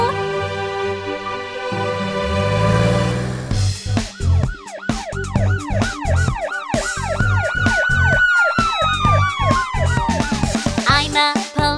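A harmonic tone gives way to a rapidly warbling siren that rises and falls in steady cycles, loud and close, with no talking.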